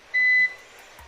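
A single steady low-battery warning beep from a Numeric Digital 600 EX-V UPS, a high pure tone held for about a third of a second, then quiet hum.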